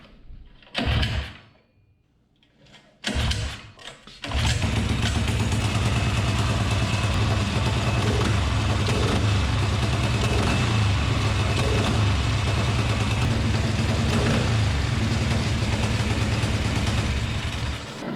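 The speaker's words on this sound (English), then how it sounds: "So I'll start it up and I'll show you what it's doing for mid-throttle response." A small engine fitted with a Tillotson 263 28mm flat slide carburetor, running lean and hesitating on the throttle, sputters through two short attempts and then runs steadily and loudly, close by, for the rest of the span.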